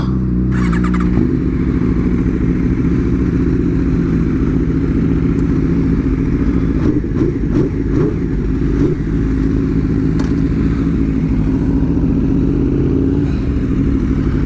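An Aprilia RSV4 Factory superbike fires up and settles into a loud, rough idle, followed by repeated sharp throttle blips and revs, close by and continuous with no talking.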